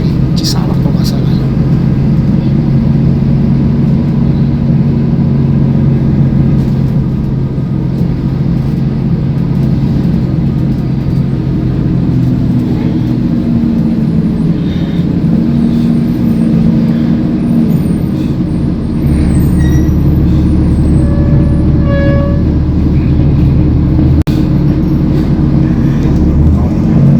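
A bus pulls onto the Cisalak toll road heading from Depok toward Bogor, its engine a steady low drone with road rumble throughout, a brief air-brake hiss partway, and someone talking over the noise.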